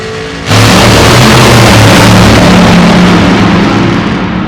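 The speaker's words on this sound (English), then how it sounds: "you're going to hear Tom Fox rev that baby way up before he pulls in" Tom Fox's supercharged drag racing car at Gainesville revs hard, a deafening engine roar bursting in after a brief quieter moment and holding at full, sustained intensity for several seconds.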